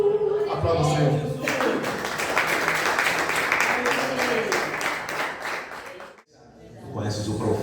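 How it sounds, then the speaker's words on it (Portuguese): A church congregation applauding during a worship service, a dense sustained wash of many hands clapping for several seconds, fading into a brief pause before voices return. "Aplauda o Senhor."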